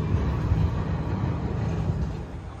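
A tram or train rolls along a city street in Milan, a steady low rumble of wheels and motor at moderate distance that holds level and eases slightly toward the end, with no voices.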